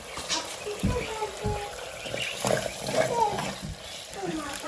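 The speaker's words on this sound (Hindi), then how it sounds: "थोड़ा सा ये पानी डालने लगी हूँ" Water is poured into a cooking pot of achar gosht meat, giving close splashing and sizzling bursts over a steady hiss of hot food.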